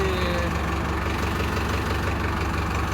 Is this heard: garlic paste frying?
no